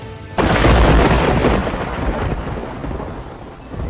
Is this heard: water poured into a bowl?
no